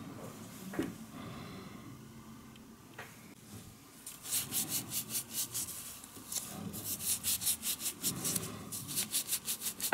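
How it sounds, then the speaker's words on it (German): Shellac gel nails being filed with a nail file: soft, close rasping strokes in a steady back-and-forth rhythm, starting after a quieter stretch and growing more regular toward the end, with no talk. "Aufbau ist jetzt überall drauf und jetzt wird das Ganze befeilt"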